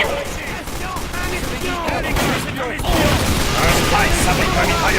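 Dense bursts of gunfire and rapid sentry-gun fire from the video game Team Fortress 2 rattle loudly and almost continuously, layered with explosions and game effects.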